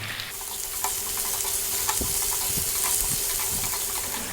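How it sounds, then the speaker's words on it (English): Chopped onions with salt fry in a pan, a continuous close sizzle broken by regular scraping stirs from a spoon, no one speaking. "we're going to add in 2 cups of onion. I'm going to add some salt, and we're going to go for about another 4 minutes or so. Stir fairly often."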